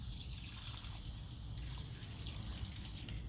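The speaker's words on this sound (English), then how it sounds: "I'm gonna rinse the cap." Water runs steadily from a tap as a soap bottle cap is rinsed under it, a continuous close splashing rush with no pauses.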